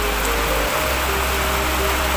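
Heavy rain of the season's first downpour pours down as a dense, loud, unbroken hiss close by, with a deep rumble underneath that drops away partway through.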